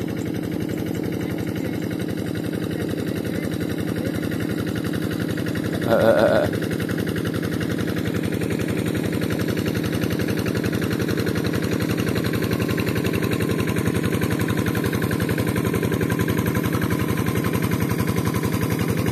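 A paddy field tractor's engine runs steadily and continuously near the listener, with a brief louder burst partway through.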